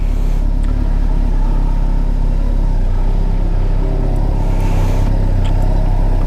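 A Kawasaki Concours 14 motorcycle with nearly 100k miles under way, its engine a steady, loud, low rumble that holds constant with faint wind noise over the top.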